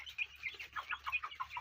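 Poultry chickens cluck softly and rapidly in a quick, busy sequence while eating feed, sounding close and fairly faint.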